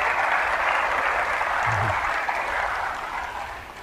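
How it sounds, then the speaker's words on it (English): An audience applauds during a lecture on synergetics, dense steady clapping from a large crowd filling the room, loud and continuous before easing slightly at the end. "I'm going to have less applause"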